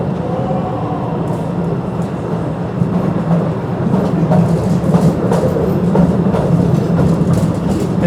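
A small tourist train rides through Postojna Cave in Slovenia, giving a loud, close, continuous rumble with rattling wheel clatter that builds slightly and carries no talk.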